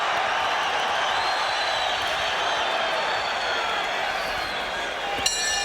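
Boxing arena crowd at the end of a round in a Juan Manuel Lopez vs. Sergio Mendez fight, a steady loud roar of cheering and applause that holds without a break, with whoops and a brief sharp clap near the end.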